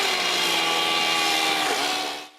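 A firefighter's chainsaw cuts through parts of a burning house, making a loud, steady, harsh buzzing whine that runs unbroken for a couple of seconds, then cuts off abruptly.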